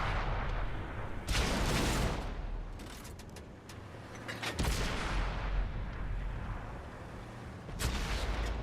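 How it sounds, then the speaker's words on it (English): Enemy artillery fire in the World of Tanks tank combat game: several heavy booming blasts with long noisy rumbles, over continuous battle noise. "Darn, that enemy artillery got me from a spot where my artillery couldn't counter him."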